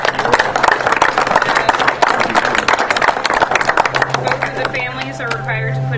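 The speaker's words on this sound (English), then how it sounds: "so I'd like to give them a big round of applause for helping out with that" A crowd of spectators applauds at a Habitat for Humanity Build-A-Thon closing ceremony, with steady, dense clapping throughout and voices rising faintly over it near the end.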